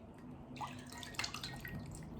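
Water drips and splashes in a bowl as someone washes their face, a few soft irregular drops and trickles close by over a low steady background hum.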